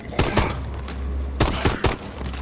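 Gunfire in Call of Duty: Advanced Warfare: a few separate sharp shots, two early and a quick cluster of three later, over a constant low game rumble.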